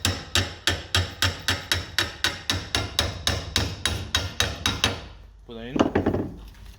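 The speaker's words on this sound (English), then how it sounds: "We get a hammer and carefully" A hammer taps seals into a pump packing sleeve during a QTech packing kit replacement, about sixteen evenly spaced sharp strikes at a steady rhythm, close and clear, followed by a short scraping rattle.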